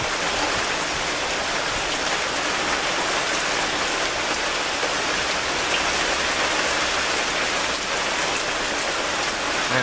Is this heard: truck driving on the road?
no